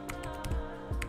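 Keys on a computer keyboard clatter in a quick run of soft taps, close and fairly quiet, with no talk over them.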